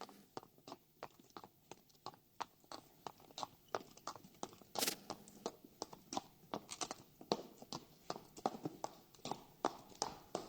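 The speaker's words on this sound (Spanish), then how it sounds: "Yo a las 8 veo siempre los caballos como salen del hipódromo" Horses leave a racetrack with a steady run of hooves clip-clopping on hard ground, the sharp taps quick and evenly spaced at a moderate distance.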